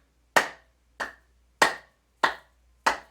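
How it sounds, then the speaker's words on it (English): Five sharp, single hand claps ring out in a quiet room, evenly spaced about half a second apart, each crisp and close with a short decay, made while clearing energy from the corners of the space. "you're going to make the clapping motion at the corners of your space"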